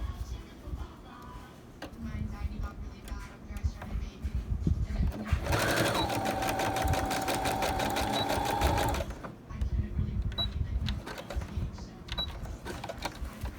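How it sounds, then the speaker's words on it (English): A sewing machine stitches a fabric medical mask, a fast steady whirring run of needle strokes for a few seconds, close and loud, framed by quieter handling sounds before and after. "And then I'm going to sew the other one."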